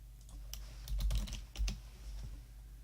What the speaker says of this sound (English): I'll just type that in the chat.